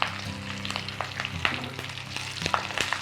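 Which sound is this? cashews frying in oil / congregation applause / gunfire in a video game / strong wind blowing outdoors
cashews frying in oil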